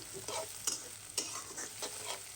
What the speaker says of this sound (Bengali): পেঁয়াজটা ভেজে তারপর সব মশলা দিয়ে দেবো